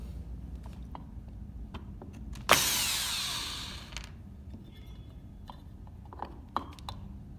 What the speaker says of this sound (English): So Phillips head screwdriver, or battery drill.